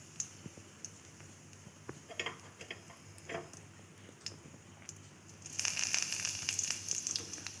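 Cut dry chillies land in a pan and begin to fry. Faint scattered ticks and crackles give way near the end to a sudden, louder sizzling hiss as they hit the hot oil, with no speech.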